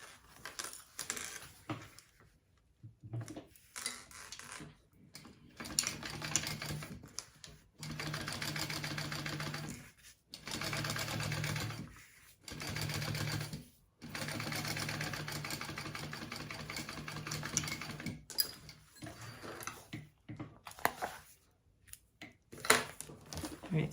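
A sewing machine top-stitching a bag lining runs in repeated bursts of steady mechanical whirring, separated by short quiet pauses and faint handling clicks, at close range and moderate volume.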